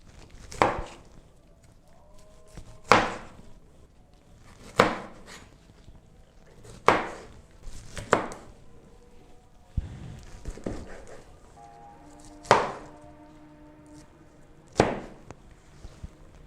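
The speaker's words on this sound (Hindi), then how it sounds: "गोभी को हमने इस शेप में काट लिया है।" A knife cuts through cauliflower florets onto a board in sharp, evenly spaced chops, about eight strokes with pauses of one to two seconds between them, close and distinct against a quiet kitchen background.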